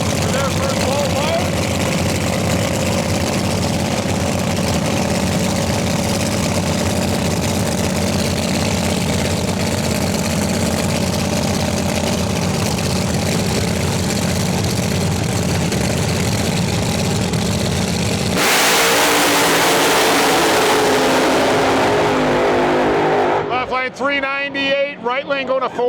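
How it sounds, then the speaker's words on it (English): Nitro Ultra drag race cars at the Rocky Mountain Nationals idle with a loud, steady low engine drone, then a sudden harsher revving burst swells near the end. "we got a couple of Nitro Ultras pulled up the way right now. For their first full load."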